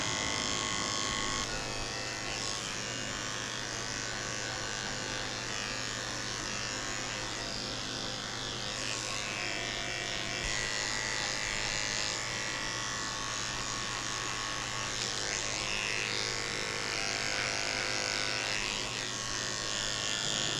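Electric dog clippers fitted with a 10 blade buzz steadily while shaving a Cocker Spaniel, a close, continuous motor hum with slight changes in tone as the blade moves through the coat.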